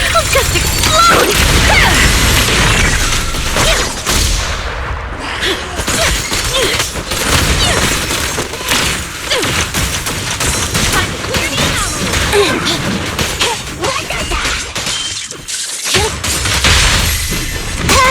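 A Zenless Zone Zero battle brings dense, loud bursts of explosions and crashing impacts, nearly continuous with a few brief dips, with a voice speaking beneath the noise.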